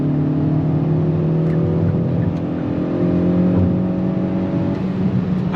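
A 2022 Kia Forte GT sedan's engine pulling hard on throttle, a loud, steady, rising drone heard from inside the car with no talking.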